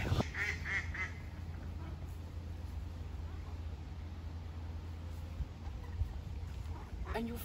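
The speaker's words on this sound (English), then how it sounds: "in the midst of nature, where we find some ducks" Ducks on the water out in nature, a few close quacks near the start and faint calls later under a low steady background rumble.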